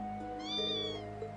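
A cat meows once in the video game Trails into Reverie, a clear drawn-out tonal meow rising and falling over a steady background music drone, with no voices.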